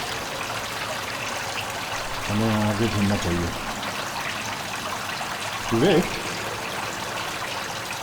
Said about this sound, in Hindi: इस गटर का पानी इस तरफ जा रहा है